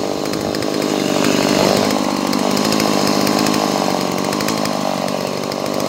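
A Hyundai X460 petrol chainsaw cuts through wood, its engine droning loud and close with a steady, slightly wavering pitch throughout.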